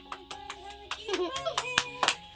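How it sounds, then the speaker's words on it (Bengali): A few people clap their hands in a steady rhythm, sharp close claps landing on the beat over a singing voice and music. "হাততালি দাও সবাই, হাততালি"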